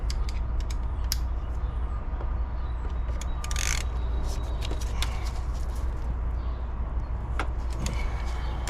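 Socket wrench ratcheting on the thermostat housing of a V6 Ford Mustang engine, a run of sharp clicks and creaks at irregular intervals over a steady low background hum, close by.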